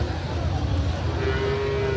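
A drawn-out cattle moo rises out of a loud, noisy outdoor din at a livestock market beside a highway, with crowd and traffic rumble filling the background.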